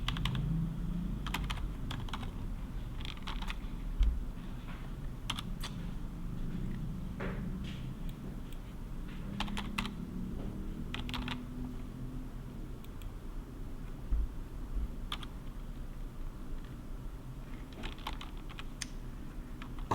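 Computer keyboard keys are pressed in quiet, irregular bursts of close clicks, with short pauses between keystrokes, including a Ctrl and Alt shortcut.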